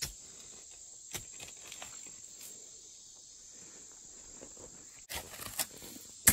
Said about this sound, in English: Listen to the cicadas.